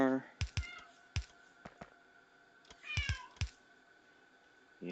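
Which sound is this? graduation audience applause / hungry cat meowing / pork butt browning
hungry cat meowing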